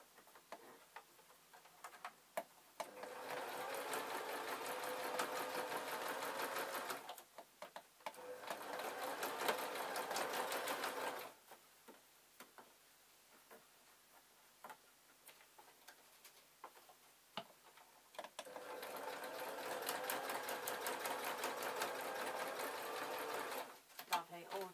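A domestic sewing machine stitches fabric for a homemade broom mop, running in three long rapid-ticking bursts separated by quieter pauses with handling clicks.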